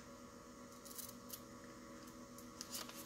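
Scissors cutting a word out of junk-mail paper for a journal layout, a few faint crisp snips and rustles over a quiet background hum.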